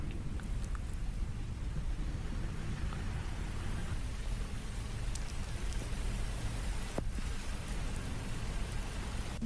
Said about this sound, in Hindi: भोपाल में आफत की मूसलाधार बारिश इस वक्त हो रही है।